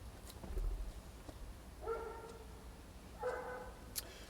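Two little dogs barking from across the street, a pair of separate barks spaced apart, distant and fairly faint over a low background rumble.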